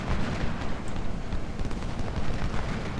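In Ultimate General: Civil War, Union and Confederate cannons and rifles fire continuously in a dense, rumbling battle din, with overlapping booms and crackling volleys that never let up.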